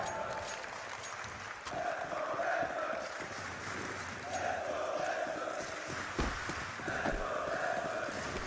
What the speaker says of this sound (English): The crowd wants Legion.